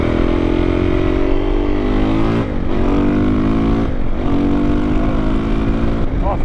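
A KTM 525 EXC dirt bike on its stock KTM exhaust rides past loud and close, its engine note climbing through repeated revs with brief dips between gear changes, no talk over it.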